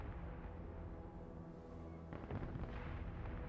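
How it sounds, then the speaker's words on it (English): MLRS rocket artillery firing in the video game Broken Arrow, a low, rumbling barrage of booming launches with a sharper burst of blasts near the end, fairly quiet and with no speech. "MLRS ready to fire."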